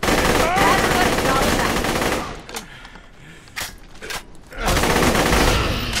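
Rapid automatic gunfire from a gun in Borderlands: The Pre-Sequel, loud dense bursts for about two seconds, a quieter gap with a few isolated shots, then another sustained burst of firing.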